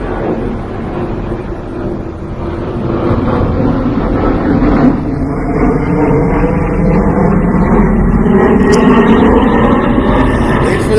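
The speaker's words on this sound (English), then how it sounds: "Wait for this airplane." An airplane passes overhead outdoors as a loud, steady roaring rumble that swells and holds for about ten seconds, with wind buffeting mixed in.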